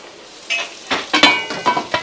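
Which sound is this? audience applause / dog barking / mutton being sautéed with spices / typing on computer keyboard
mutton being sautéed with spices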